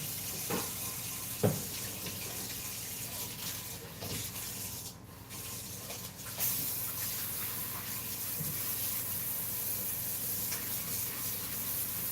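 Tap water runs steadily over a whisk being rinsed at a kitchen sink, a soft continuous hiss and splash with a few brief knocks and clinks, nearby and alone without talk.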